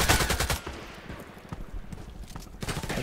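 Gunfire in the shooter game Contract Wars, with rapid bursts and single shots cracking in quick succession, loud at the start and end with quieter rattling in between.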